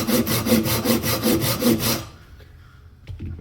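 A compact hand saw with medium teeth cuts through a wooden 2x4 in about nine quick, even rasping strokes lasting two seconds, loud and close, followed by quiet with a faint knock.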